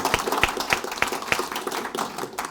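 Audience applause at a Threshold Academy athlete event, a thin scatter of hand claps with several distinct sharp claps standing out close by, fairly quiet and brief.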